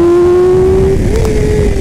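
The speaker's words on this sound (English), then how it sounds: "So there's that quick shifter I was talking about. Didn't use the clutch at all there." A race-prepped Yamaha R6 sport motorcycle screams at high revs, the loud engine note dropping briefly as it snaps up a gear via quick shifter without the clutch, then pulling on, close and alone.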